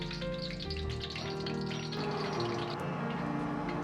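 Tofu puffs deep-frying in a pot of hot oil, giving a steady, dense sizzle and bubbling that runs unbroken throughout, close and fairly loud, with no voices.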